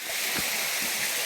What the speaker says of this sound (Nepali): ये देखिए गाइस छोटा सा झरना